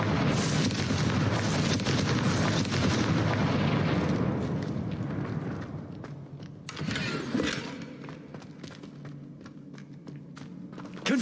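Confringo blasting spell explosions from the video game Hogwarts Legacy: heavy booming blasts rumble loudly for several seconds, then fade into quieter footsteps and ambience, with a short burst returning near the end.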